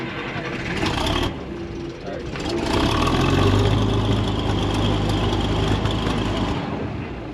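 A Case tractor at a farm auction, one that had been used on a round baler, starts up and runs with a steady mid-pitched engine drone that swells and holds, with people talking over it.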